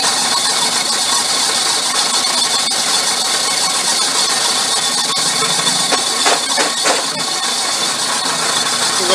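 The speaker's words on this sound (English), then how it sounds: "So we'll come over here and we'll drill the hole." Power drill boring a slightly over half-inch hole in a maple tree for a sap tap: a loud, steady motor whine and grinding runs throughout with a brief change in pitch near the end, close by with no talking.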